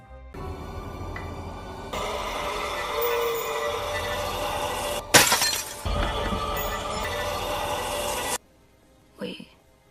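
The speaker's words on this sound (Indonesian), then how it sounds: "Jam dinding di ruangan itu pecah, seluruh ruangan bergetar" A wall clock shatters as a dramatic sound effect. A sharp crash and breaking burst sits within a loud, dense rumbling bed, followed by a quieter tail and a brief second hit.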